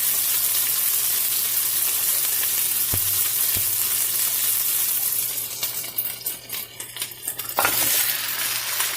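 One kilogram of goat meat frying in a pot for mutton haleem, a loud continuous sizzle with a couple of metallic clinks and scraping stirring sounds building toward the end.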